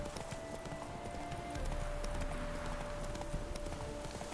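A horse's hooves clip-clopping in The Witcher 3 video game, a quick, even run of close hoof strikes over a faint game ambience, with a player talking quietly underneath.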